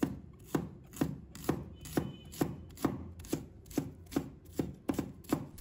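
Knife chopping scallion whites on a cutting board: a steady series of crisp, close chops, about two per second, with nothing else in between.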